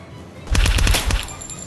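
An MP5 submachine gun fires in a horror video game: one loud, close, rapid burst of about half a dozen shots, followed by a fading tail.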